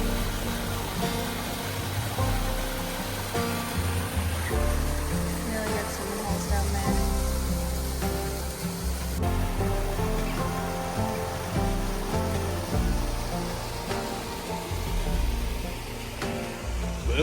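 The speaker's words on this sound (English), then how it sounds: "Welcome to the Hagus waterfall." A waterfall on a forest hiking trail gives off a constant broadband rush of falling water, steady and fairly soft throughout, with people talking over it at times.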